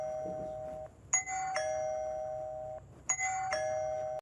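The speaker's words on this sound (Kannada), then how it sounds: "ಮನೆ ಡೋರ್ ಬೆಲ್" A house doorbell sounds two electronic ding-dong chimes, each a bright two-tone pair, clear and alone in a quiet indoor room.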